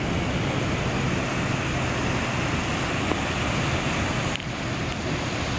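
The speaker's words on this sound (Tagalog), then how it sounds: "lakas ang buhos ng baha" Strong floodwater rushing along the Baganga River after a typhoon, a steady loud broadband roar of churning water with wind buffeting the microphone, continuous throughout.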